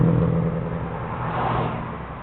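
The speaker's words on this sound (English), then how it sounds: "That was a rotary engine just went past." A Mazda RX-7 with a rotary engine passes on a town street, a rising then fading engine whir and rumble heard from a parked car, fairly loud and muffled.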